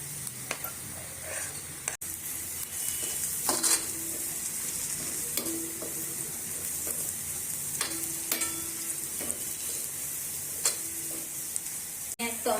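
Chopped onion and green chili frying in a pan for shev bhaji, a steady close sizzle with repeated scraping stirs and occasional spoon clinks, no talking.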